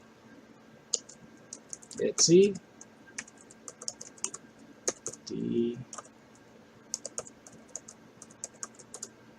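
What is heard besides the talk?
typing on a computer keyboard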